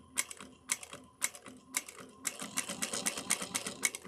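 A sewing machine bastes piping and lace onto a fabric pouch, starting with a few slow separate stitches and then running in a quick, steady rhythmic clatter, close and fairly quiet.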